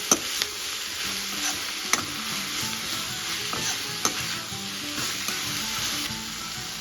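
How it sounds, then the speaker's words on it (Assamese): Chopped tomato drops into oyster mushrooms frying in a pan, setting off a steady broadband sizzle with scattered stirring knocks and scrapes, close and continuous with no voices. "Now it's time to add our tomato."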